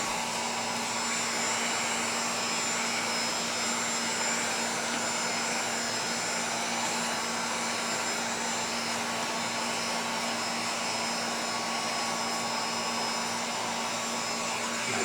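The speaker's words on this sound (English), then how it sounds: "I do have the heat gun about" A heat gun blowing hot air onto tint film on the rear window of a 2017 Chevy Cruze, a loud, steady whooshing whine held at close range without a break.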